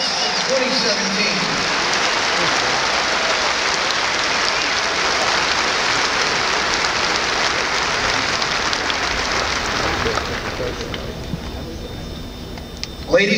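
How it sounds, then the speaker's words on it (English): Large crowd at the 2017 West Point graduation ceremony applauding the class of 1967, a broad continuous roar of clapping that holds steady and then thins out near the end. "how about a round of applause for the class of 1967 and their outstanding dedication to the class of 2017"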